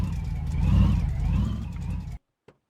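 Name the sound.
El Camino car engine driving onto Ram truck in video game My Garage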